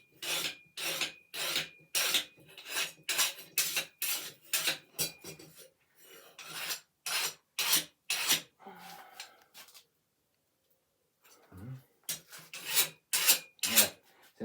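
Steel file rasping back and forth across a hardened knife blade for a kali training knife, a rhythmic series of close, loud strokes with a pause in the middle before the strokes resume.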